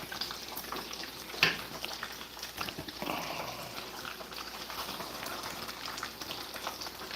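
Fish pieces frying in brand new oil give off a continuous crackling, popping sizzle at close range, fairly quiet and steady, with a sharp clatter and a couple of faint thumps breaking through.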